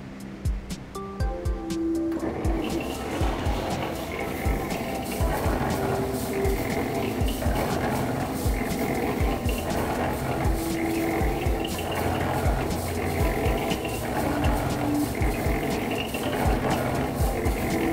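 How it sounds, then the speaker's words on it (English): Lab blender churning urea fertilizer with eNtrench additive: a steady, loud mechanical whir and liquid-like pumping rumble runs continuously after a brief start-up, with a faint rhythmic pulsing throughout and no talking. "Once I begin the blending, I'll dispense all of the product into the urea, and we'll let that go ahead and mix for about 3 minutes"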